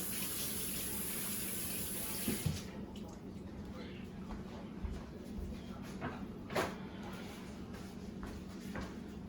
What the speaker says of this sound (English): We're gonna wash the hands again